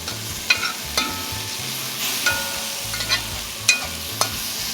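Curry spices dry-frying in a pot for a Trinidad beef curry pelau, a steady close sizzle broken by a few sharp scraping stirs spaced through the stretch, no voices.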